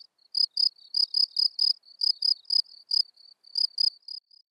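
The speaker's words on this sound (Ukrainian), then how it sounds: "Його видає цвіркун польовий." Field cricket chirps in crisp, high-pitched pulses, a rapid series of short trills repeated in irregular groups, clear and close against otherwise silent background.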